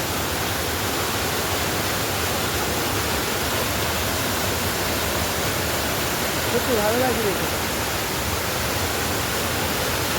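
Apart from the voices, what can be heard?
mountain waterfall in Darjeeling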